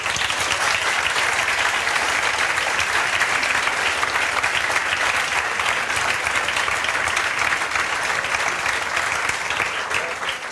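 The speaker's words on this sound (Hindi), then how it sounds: "ताली बजाओ जोरदार।" A classroom audience claps loudly and continuously for about ten seconds, a thick, even wash of hands that holds strong and tapers slightly at the very end.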